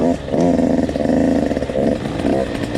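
Dirt bike engine with a 105 big bore kit and FMF factory big bore exhaust, a loud close rough idle rising into a throaty revving buzz that dips and surges, with a voice briefly underneath.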